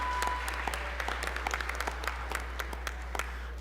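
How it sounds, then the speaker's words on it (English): Scattered, moderate clapping from a small audience at a school board meeting, uneven individual claps over a steady low electrical hum. "We can give her a round of applause"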